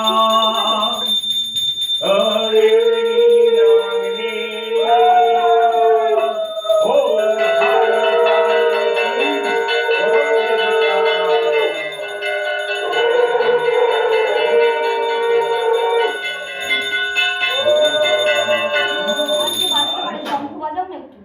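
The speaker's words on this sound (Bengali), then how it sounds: "ঘন্টাটা বাজাও না, এই যে ও রাহুল রাহুল" A bell rings steadily through a Kali puja, under loud, continuous chanting voices.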